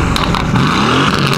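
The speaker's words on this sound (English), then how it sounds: "This is what a 600 bhp Aston Martin sounds like." A straight-piped, 600 bhp 2019 Aston Martin Vantage engine revs loud and close, one continuous rising roar with a harsh, raspy exhaust and no voices over it.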